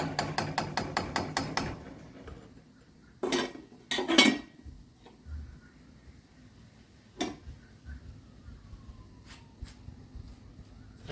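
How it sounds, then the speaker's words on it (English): A spoon clatters and scrapes against the bottom of a gumbo pot of roux, starting with a quick run of metallic knocks and followed by scattered taps and scrapes with quiet gaps between them. "Occasionally scraping the bottom, keeping the little particles of roux from burning."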